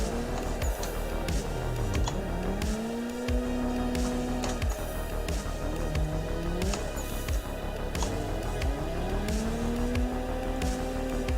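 Race cars drift in the driving sim Assetto Corsa, their engines repeatedly revving up and dropping off in rising and falling sweeps, with brief tire-squeal textures throughout a loud, continuous stretch with no speech.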